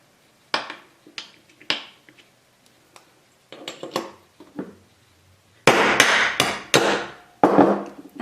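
A hammer taps a metal punch while making post style earrings, giving sharp, ringing metallic strikes, sparse and light at first, then a cluster of louder blows toward the end, close up in a quiet workshop.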